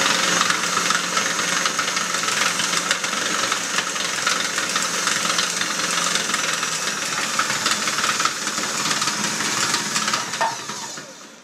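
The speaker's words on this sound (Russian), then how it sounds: "яйца с сахарочком надо немножко взбить миксером" An electric hand mixer whirs loudly and steadily as it beats eggs with sugar for carrot cupcakes, a dense buzzing hiss that holds for about ten seconds and then winds down.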